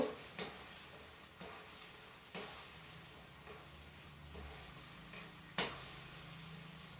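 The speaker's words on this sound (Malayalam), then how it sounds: "ഇനി നമുക്ക് അതിലേക്ക് ഈത്തപ്പഴം ഇട്ട് കൊടുക്കാം" Dates hit hot oil in a pan while a pickle is being made, giving a soft continuous sizzle with several sharp clinks of a utensil stirring, fairly quiet and without talk.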